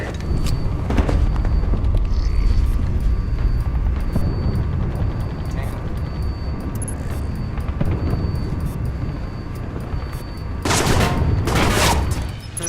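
Sustained automatic turret fire from the video game Alpha Protocol, a dense, loud rattle of shots running throughout with a sharper burst of louder bangs near the end.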